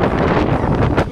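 Strong blizzard wind gusting in Kibber in the Himalaya, loud buffeting roar hitting the microphone in a short burst, with no voices over it.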